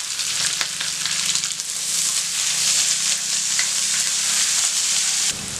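Onion, green chillies and curry leaves crackle in hot oil for carrot poriyal, a bright steady sizzle with scattered pops and a brief clatter of stirring near the end, no voices.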